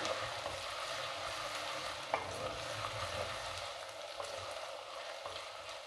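Steady sizzling of garlic and ginger frying in a hot pan for baingan bharta, with occasional stirring scrapes, no voices.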